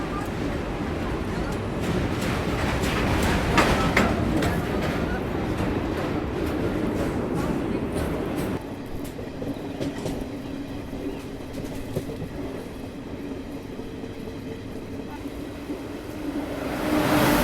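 A Patna Kota express train passing on the railway: a steady, loud rumble and rattle of wheels and carriages that fills the whole stretch, with someone talking over it.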